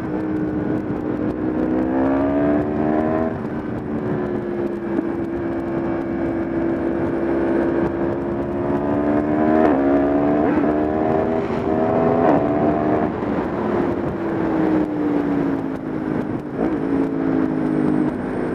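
Yamaha MT-10 motorcycle engine revving high, a loud close droning howl that swells and dips in pitch as the throttle opens and shifts, sustained without talk.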